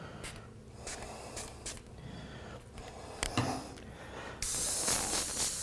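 An airbrush hisses out paint in short bursts onto a biomechanical skull, the broadband spray close and steady, with a louder continuous blast of air near the end.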